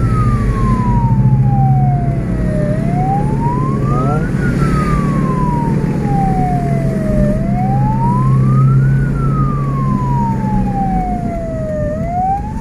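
Loud wailing ambulance sirens sweep up and down in slow, repeating cycles over the rumble of the moving ambulance at night, with an escort vehicle's siren layered faintly behind.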